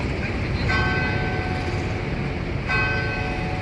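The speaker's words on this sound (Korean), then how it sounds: "갑자기 종이 울린다" A church bell rings out on a street in Rome in the evening, struck twice over about four seconds with a bright lingering tone above steady city background noise.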